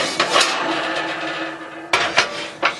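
Heavy cast iron pans lifted out of an oven in a tiny house kitchen, giving a few sharp metallic clanks and knocks close by, with a duller shuffling scrape between them.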